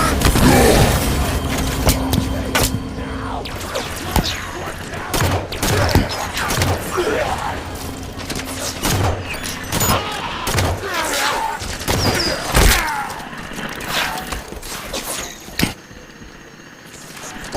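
Plasma grenade explosions in the Halo 5: Guardians video game go off amid a dense firefight, with repeated sharp bangs, booms and thuds scattered through rapid gunfire, loud and close, with no talking.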